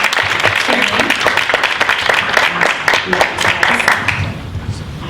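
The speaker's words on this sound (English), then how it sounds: "please give them a round of applause for their training" Audience applause at a panel discussion, dense sustained clapping from a crowd across the whole stretch, steady and moderately loud before tapering slightly at the end.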